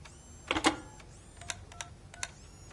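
A landline telephone being dialed in the video game RoboCop: Rogue City: a cluster of clicks and tones, then three separate short keypad beeps, fairly quiet, with no talking.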